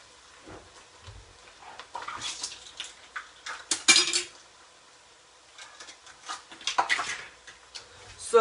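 Stirring flour into clam chowder in a pot, heard as scattered clinks and scrapes of a utensil against the pot in uneven bursts, close and moderately loud, with no talking.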